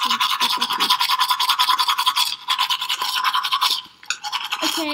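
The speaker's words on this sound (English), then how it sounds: "Now I've just brushed my teeth" Teeth brushing with a toothbrush in a Roblox game, a rapid rhythmic scrubbing of quick bristly strokes repeating steadily, pausing briefly twice before resuming.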